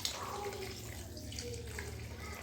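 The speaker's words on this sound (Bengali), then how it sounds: "এবারে দেখো আমি এই যে দুধটা ফুটিয়ে রেখেছিলাম, এটাকে আমি আস্তে আস্তে অ্যাড করে দেবো।" Boiled milk is poured slowly into a pan for Bengali nolen gurer payesh, a soft, steady liquid trickle and splash heard faintly and close.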